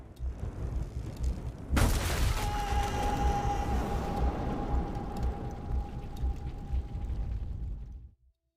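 A gunshot in an audio drama: one sharp, loud blast, followed by a long rumbling echo and a thin ringing tone that fade out after several seconds.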